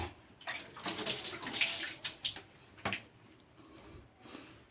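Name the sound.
water splashing while bathing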